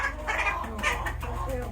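A hen clucks steadily and close by as it is picked up at a chicken farm, with a few agitated, overlapping calls and continuous farmyard background noise.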